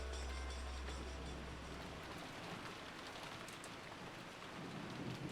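Steady rain pouring down in a video game scene, a dense even hiss with scattered drops and a low rumble at the start, continuous and fairly close with no voices.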